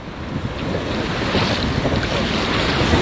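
Whitewater rapids on the Ganges at Rishikesh during a rafting run, a steady loud rushing roar of churning water mixed with wind buffeting the microphone, continuous and close throughout with no talking.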